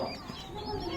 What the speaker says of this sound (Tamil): பாருங்க, இந்த சைடு கோழி குஞ்சு